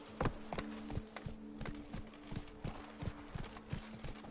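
Horse hooves clip-clopping in a steady rhythm as a horse is ridden in The Witcher 3: Wild Hunt, close and fairly quiet, with a faint steady background tone.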